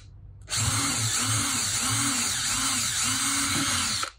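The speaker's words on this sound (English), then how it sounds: "We drill the other two holes" A cordless drill drills holes on gear two, whirring steadily for about three and a half seconds, a continuous high-pitched motor whine with a rhythmic pulsing undertone, close and loud.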